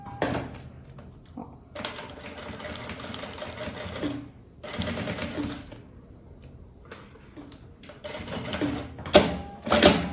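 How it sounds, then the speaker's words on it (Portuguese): Sewing machine stitching a backpack strap, running in several bursts of rapid mechanical whirring of a few seconds each, separated by short pauses, close and clear with no talking. "Agora, eu vou costurar a outra alça, que eu vou deixar ela bem grudadinha aqui"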